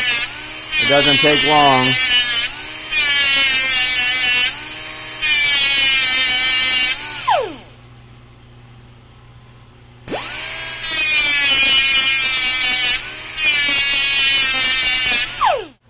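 A power tool grinds a point onto stainless steel, loud harsh whining bursts of a few seconds each separated by short pauses, with a longer quiet gap midway and a voice speaking briefly over it.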